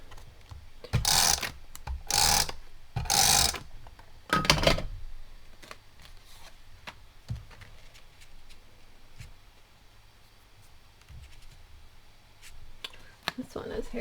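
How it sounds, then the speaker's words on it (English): A tape runner laying adhesive on card stock during card making, three sharp rasping ratchet bursts in quick succession followed by a longer pull, with scattered clicks and soft handling noises, then near-quiet. "I'm just using my tape runner."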